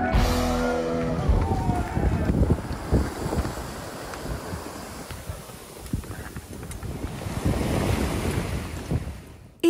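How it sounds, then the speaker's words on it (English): Wind and waves at sea aboard a sailing boat off Norway, with the wind coming diagonally from behind in a slightly choppy swell: a steady loud rush of wind buffeting the microphone over sloshing water, with no talking. "Our wind today comes diagonally from behind, and it's a little bit wavy."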